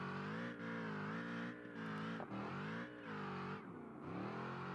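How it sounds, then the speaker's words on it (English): Baja racing vehicle in BeamNG Drive, its steady engine tone droning continuously, dipping and rising as the driver slows and shifts up, heard alone with no talk. "You can listen to his engine tone, having to slow up, maybe shift it up too"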